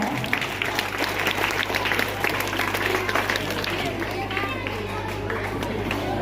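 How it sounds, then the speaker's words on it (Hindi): A crowd at a school headmaster's farewell ceremony claps steadily and fairly loudly while people chatter and talk throughout, the applause holding an even level from start to finish. "गिफ्ट को समर्पित किया जा रहा है। जोरदार तालियां।"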